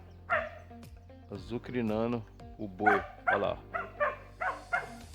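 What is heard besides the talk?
dog barking on a farm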